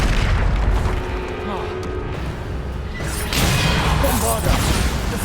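Heavy blasts and whooshes from Bombarda and other combat spells in Hogwarts Legacy fill a dense, continuous battle mix, with booming impacts rolling over one another and no quiet gaps.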